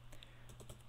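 A password is typed on a computer keyboard while adding a user in Linux Mint, a few quiet, quick key taps close by with a faint background hum.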